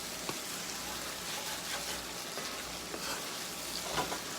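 Food frying in oil and butter in a pan for roasted chicken thighs with veggies and rosemary, a soft steady sizzle with faint scraping and stirring along the pan bottom.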